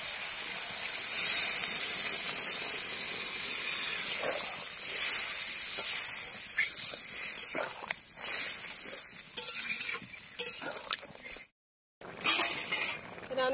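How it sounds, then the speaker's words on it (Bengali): A steady sizzle and hiss rise from a pan of snail and eggplant curry as water is poured in, with occasional clinks of a utensil and brief bursts of bubbling, then a short break before stirring resumes. "এবার জল দিয়ে দিচ্ছি"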